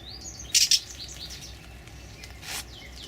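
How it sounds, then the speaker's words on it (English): House wrens give a few sharp, high chirps and twitters at moderate distance in a quiet space, one loud burst of calls followed by a softer one. "We got the house wrens are in here too."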